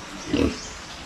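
A pig gives a single short, fairly close grunt at a backyard pen where young pigs weighing around 40 to 50 kilos are kept, with a low hum of background noise.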